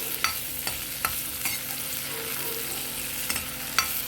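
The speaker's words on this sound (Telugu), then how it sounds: "ఇప్పుడు పచ్చి వాసన పోయేదాకా వేయించుకోండి" Roasted cumin powder frying in a corn soup base, a steady hiss broken by sharp spoon scrapes every half second or so. It is close and continuous, with no one talking.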